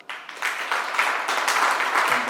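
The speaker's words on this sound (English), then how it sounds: "I would like us to join our hands and clap Madame Jovia." Nursing students in a university lecture audience start clapping after a brief silence; the applause swells quickly into a strong, sustained round of many hands.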